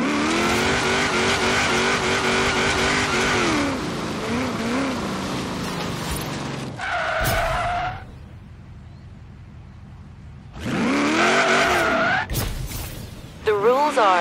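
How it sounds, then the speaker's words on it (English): A car drifting with the e-brake in the racing game Forza Horizon 3, loud revving engine tones sweeping up and down, a brief pause, then more revving and skidding, with a game voice talking between. "use your e-brake to drift as far as you can between the flags"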